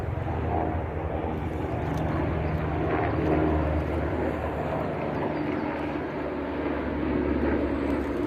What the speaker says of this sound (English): They're flying pretty low too.